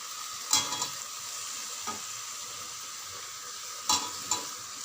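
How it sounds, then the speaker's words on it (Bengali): Squeezed soybean chunks stirred into spice masala frying in a pan, a low steady sizzle broken by a few distinct scrapes and knocks of the spoon against the pan, quiet and close with no voice. "সয়াবিনটা জল চিপে চিপে এর মধ্যে দিয়ে দিয়েছি।"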